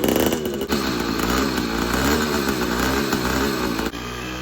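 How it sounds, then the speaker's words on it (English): Razor two-stroke dirt bike engine revving steadily and loudly nearby with a raspy, buzzing tone, holding high revs before dropping off sharply near the end. "My brother's ripping the dirt bike."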